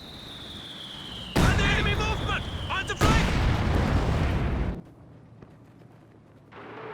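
A heavy artillery barrage in Company of Heroes 2 hits with a sudden loud impact followed by a second blast and a long roaring rumble, then falls away to quieter background noise.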